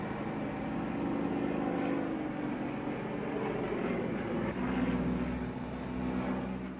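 Broad, steady aircraft engine roar at the 2019 China International General Aviation Convention air show in Xi'an, a continuous loud drone with slight swells, no talk over it.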